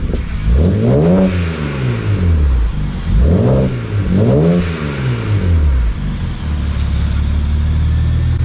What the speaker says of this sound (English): Casey's had it running now for about 2 or 3 minutes, so it's really quieting down on the exhaust.